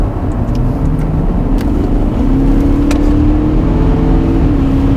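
Volkswagen Touareg V8 4.0 TDI diesel accelerating hard, its engine droning loudly inside the cabin as the revs climb steadily and step up through gear changes, with no talk over it.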